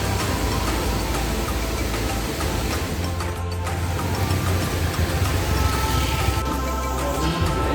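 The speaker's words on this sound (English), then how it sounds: "the weather outside is amazing, but it's raining constantly" Steady afternoon monsoon rain at Tamhini Ghat near Mulshi, Pune, a constant loud broadband wash of downpour with low rumbling underneath, unbroken throughout and no one speaking.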